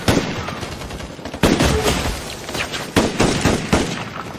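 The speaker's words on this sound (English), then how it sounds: "Now, this one, multiple gunshots, perfect." Rapid bursts of gunfire, several loud overlapping shots cracking in quick succession with sharp peaks, no voices.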